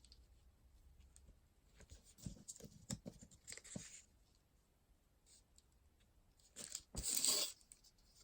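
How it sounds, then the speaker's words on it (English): Paper page being torn from a book during journal crafting, a short loud rip near the end after quieter rustling and handling sounds. "I do need to tear the bottom piece"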